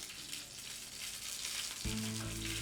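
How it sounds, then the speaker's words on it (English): Gravy and pan drippings stirred in a pan as they come to a boil, a steady close sizzling hiss, with a low tonal hum joining for the last second. "Now you're just going to take your gravy or your pan drippings, just add them in there, stir them real nice"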